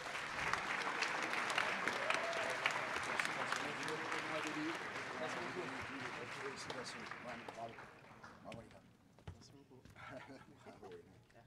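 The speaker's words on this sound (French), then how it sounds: "Bravo, on peut les applaudir encore." Sustained clapping from an audience at a hacker conference closing ceremony fills the space, tapering slightly toward the end, with some voices mixed in.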